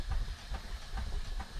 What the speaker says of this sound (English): Engines running everywhere.